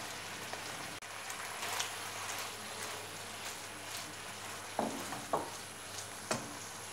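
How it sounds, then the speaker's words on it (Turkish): Onions going into hot oil alongside meat in a pan give a steady, crackling sizzle that holds throughout, broken now and then by a few sharper pops and spatters near the end, with no voices. "Şimdi yağını da ekliyorum. Bu aşamada soğanları ekleyeceğim arkadaşlar."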